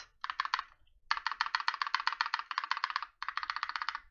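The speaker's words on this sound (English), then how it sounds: "If you press on the left side, you can still hear a metal clicky noise." A mechanical keyboard backspace key with lubed stabilizers is pressed rapidly and repeatedly, producing close, crisp, evenly spaced clacks with a faint metallic click, in three quick bursts separated by short pauses.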